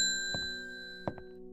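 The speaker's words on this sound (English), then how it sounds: "Let's hit the bell." A bell struck in the puzzle game Strange Horticulture rings with a sustained metallic tone, with two soft taps early and a brighter strike near the end, slowly decaying.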